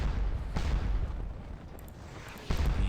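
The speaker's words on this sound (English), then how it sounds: "Looks like our cannon should be able to do some damage here too." Cannon artillery fires in the Napoleonic battle game Scourge of War Waterloo: two heavy, booming shots about two seconds apart over a continuous low battlefield rumble.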